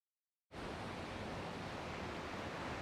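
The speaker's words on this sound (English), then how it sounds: "We're back on the Oregon coast once again at the outlet of the Nehalem River into the Pacific Ocean." Pacific Ocean surf at the Nehalem River outlet on the Oregon coast rushes in as a steady, broad wash of breaking waves that starts abruptly and stays even and faint, with no voices.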